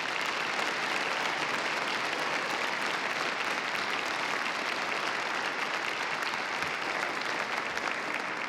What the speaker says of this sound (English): I would like the entire room to give a warm round of respectful applause and thank you to our faculty and staff